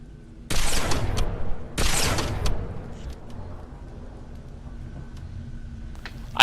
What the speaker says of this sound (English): I end up sniping this patrol